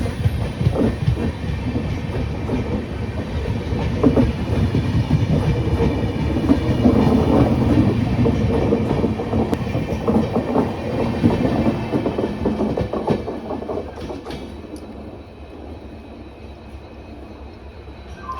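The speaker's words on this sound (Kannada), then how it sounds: "ಈಗ ತಾನೇ ಹೊರಟೋಯ್ತು ಜನಶತಾಬ್ದಿ ಎಕ್ಸ್ಪ್ರೆಸ್ಸು" A Jan Shatabdi Express train speeds through a main-line station, a loud sustained rumble of wheels and wagons with a steady clatter that holds for most of the passage and then drops off as it moves away.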